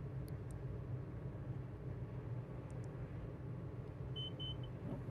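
Twin propeller engines of a Diamond DA62 in Microsoft Flight Simulator 2020 give a steady, loud low drone and rumble that holds without a break, with a brief faint high beep near the end.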